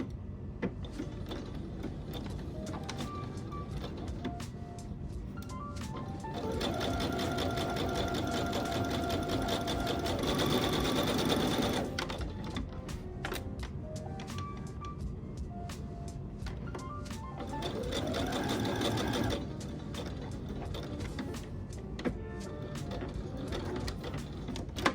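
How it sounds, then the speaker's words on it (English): A sewing machine runs a straight-stitch seam on a long-sleeve top, whirring in sustained bursts with short pauses between runs, close and steady over a low background hum. "Using a straight stitch, sew and be sure to backstitch at the beginning and end of the seam."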